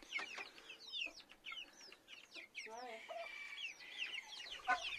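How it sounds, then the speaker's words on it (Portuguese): A red rooster calls repeatedly on a farm, loud close clucks and squawks in quick irregular bursts with one longer crowing cry, other birds chirping faintly around it. "O galo vermelho lá gritou."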